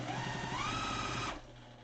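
A sewing machine runs steadily for about a second and a half, stitching down the rolled edge of a homemade N95-style fabric mask, then stops abruptly, leaving a quiet room hum.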